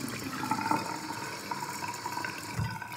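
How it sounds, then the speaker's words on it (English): Tap water runs steadily into a sink during face washing, a soft continuous splashing with a few small bumps and gurgles, fairly faint and with no voices. "I just opened my mouth while I'm washing my face."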